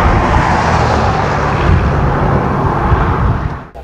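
A car pulling out onto a race track, a loud steady engine and road roar close by that holds for a few seconds before dropping off abruptly.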